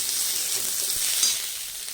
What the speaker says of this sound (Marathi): कांदा चांगला परतल्यानंतर मी इथं एक छोटी काकडी घेतलेली आहे, ती पण ह्याच्यात घालून परतून घ्यायची आहे